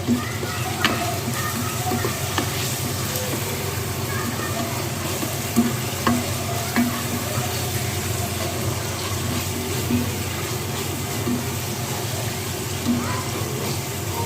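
A spoon stirs a chicken keema macaroni sauce in a pan after vinegar and Worcestershire go in, giving a continuous gentle sizzle and scraping with soft clinks, close and even, with no talk.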